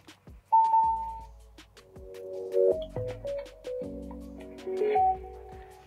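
Pairing chime from two Tronsmart Mirtune C2 360 Bluetooth speakers being linked for stereo: a short electronic tone followed by a rising sequence of soft melodic notes, moderately quiet, with no talk.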